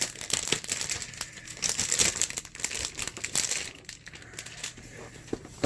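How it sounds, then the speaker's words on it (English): Plastic wrap crinkles and crackles as it is peeled off an XP Pen 15.6 Pro drawing tablet display, close and busy, with rapid irregular rustles across the whole stretch. "Okay, I got the plastic off."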